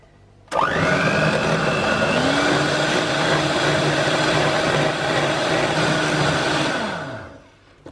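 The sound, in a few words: whisking cream with sweetener into whipped cream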